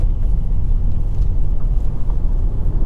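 A Hyundai i20 with iMT gearbox driving on the road, a steady low engine and road rumble heard from inside the cabin, continuous and fairly loud with no voices.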